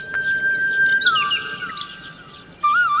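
Bright, chirpy baya weaver bird calls with thin tonal whistles and sweeping trills, fairly clear and close, repeating over a quiet background with no voices.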